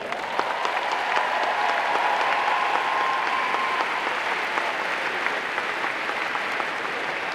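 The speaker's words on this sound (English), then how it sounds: "Let's give them a round of applause." Sustained applause from a large crowd at a Florida State University spring commencement ceremony, steady dense clapping filling the whole stretch at an even level.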